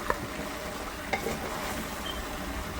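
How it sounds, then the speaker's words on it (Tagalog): Chayote is stirred in a small saucepan with hot oil, soft scraping strokes and a couple of light clinks over a steady low sizzle, close and without talk. "Haluin ko ng konti."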